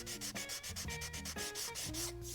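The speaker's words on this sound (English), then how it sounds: "we'll come back and sand that off." Steady abrasive rubbing of sandpaper against the wooden body of a guitar, working around the routed pickup and control cavities, close and continuous with rhythmic back-and-forth strokes and no talking.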